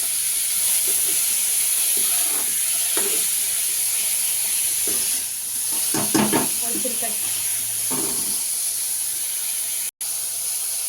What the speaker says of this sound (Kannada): ಕೊತ್ತಂಬರಿ ಸೊಪ್ಪು ಹಾಕಬೇಕು, ಸ್ವಲ್ಪ ಜಾಸ್ತಿ ಹಾಕಬೇಕು. ಆಮೇಲೆ ಅದು ಹಾಕಿ ಹುರ್ಕೊಬೇಕು.